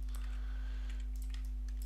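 Several quick, light keyboard key presses click close by over a low electrical hum.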